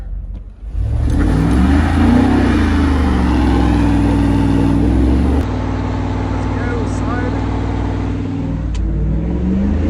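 A Chevrolet Camaro warming up, first drive of the year, runs with a loud, near engine rumble that is held steady and revved, then drops slightly to a lower idle partway through; a voice may be faintly present.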